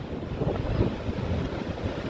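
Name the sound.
rough sea waves and wind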